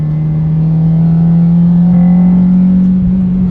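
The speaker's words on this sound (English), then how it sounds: "The VTEC crossover in fourth is probably my most pronounced gear." A Honda Civic Type R EP3 engine on a race track holds a steady, loud drone at near-constant revs, sounding close and alone with no voices.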